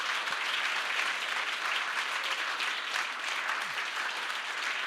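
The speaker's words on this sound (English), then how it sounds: "if we can get a final round of applause for our founders from Cohort 10" Steady, dense applause for startup founders at a winter showcase event, an even roomful of clapping holding at the same level for the whole stretch.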